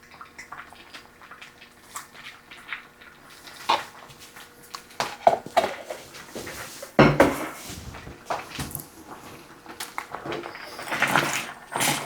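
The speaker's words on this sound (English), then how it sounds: "I'll just put a couple of good spoons full in here." Sour cream is spooned into a pot for a creamy bean dip, heard as soft scattered clinks of a spoon against the pot, wet plops and scraping, close and intermittent in a quiet kitchen.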